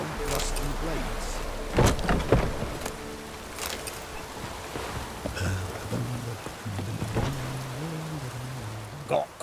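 Steady rain patter in The Witcher 3 video game fills the background while characters talk over it, with a few louder thumps and knocks breaking through.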